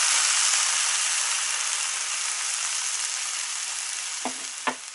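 Fresh cabbage stews with added water in a pan for a pork-mince casserole, giving a steady broad sizzling hiss near the pan that fades slightly, with two brief clinks near the end.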